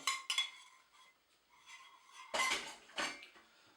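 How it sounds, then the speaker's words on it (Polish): A spoon mixing yeast dough in a bowl makes soft clinks and scraping knocks, in quiet bursts with a louder flurry of strokes near the end. "Też mieszam łyżką."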